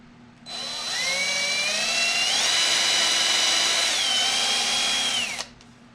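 A power drill bores a pilot hole through wood, a steady high whine that rises slightly in pitch partway through, then spins down and stops after about five seconds, close and loud with no talking.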